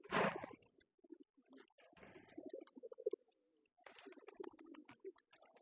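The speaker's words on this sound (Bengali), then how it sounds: "এটা অবশ্য মাদি কবুতর" A female pigeon coos softly in short, low, throaty bursts with quiet gaps between them, close by while it feeds on grit, and no one speaks.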